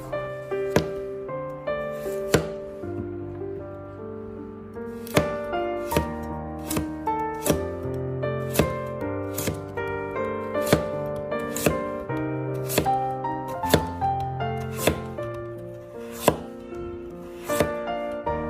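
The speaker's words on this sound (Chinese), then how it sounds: "然后将胡萝卜片切成胡萝卜丝" A knife shreds thin carrot slices into fine strips on a cutting board, giving a steady run of crisp, close chops over background music.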